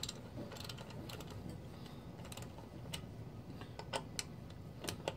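A ratchet loosens bolts on a GY6 scooter brake, giving faint, uneven clicking with scattered sharper ticks over low background noise.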